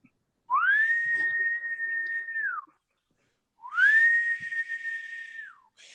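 A person whistles two long sustained notes, each rising quickly, holding a steady pitch and then falling away, with a short silent gap between them; the whistling is clear, close and heard alone.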